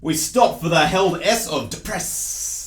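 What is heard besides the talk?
No everyday noises stand out.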